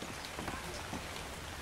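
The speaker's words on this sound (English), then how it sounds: "It's raining." Rain falls steadily in the video game ARK: Survival Evolved, a soft, dense patter of drops with no voices over it.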